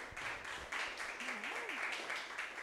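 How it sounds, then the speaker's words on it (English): A meetup crowd claps for a newly promoted executive director of Antiwar.com, giving a faint, steady patter of applause throughout with a voice rising over it briefly. "give her a round of applause"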